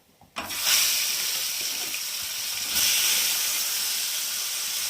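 Pieces of rohu fish, a half head and a tail, frying in hot oil in a kadai, giving a loud continuous hiss and sizzle that starts abruptly and holds steady, with a brief surge partway through.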